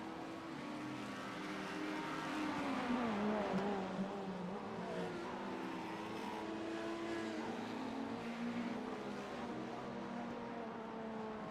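GTP prototype race cars in a racing video game sweep through a near-straight chicane on the Indy road course, engines droning steadily at close range with overlapping pitch sweeps, a continuous loud roar throughout.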